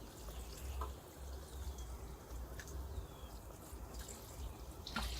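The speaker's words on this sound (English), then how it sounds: "water it in." Water running onto freshly planted shade-loving plants in a summer container, a steady close splashing and trickling wash with a few brighter drips, alone without talk.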